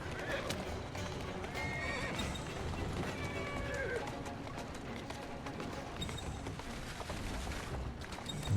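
A horse whinnies repeatedly over a steady gallop of hoofbeats, with busy game-style background noise throughout, in Assassin's Creed.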